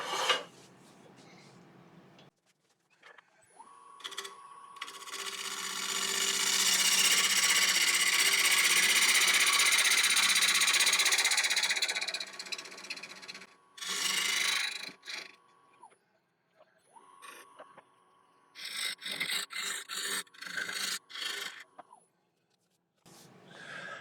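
A lathe turns a tenon on a yew blank, its motor humming steadily beneath a rising, loud scraping roar of the tool cutting, then shorter bursts of cutting that stop and start.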